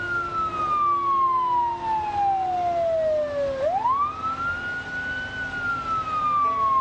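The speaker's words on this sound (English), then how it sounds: "The one thing louder than the blizzard is my friggin' siren." Vehicle siren in Project Zomboid during a blizzard, a loud wailing tone sweeping slowly down then rising back up over a constant rushing storm background, no voices.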